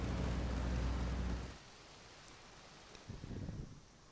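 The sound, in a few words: rain in video game GTA Vice City Stories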